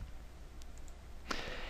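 Light clicks of a computer mouse while operating a photo software menu, a couple of faint, brief ticks followed by a sharper click near the end against quiet room hiss.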